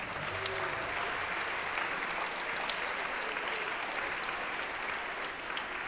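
Sustained audience applause at a Martin Luther King Day celebration in Montgomery County, Maryland, honoring the county council members; steady, dense clapping from a crowd that holds at an even level for the whole stretch.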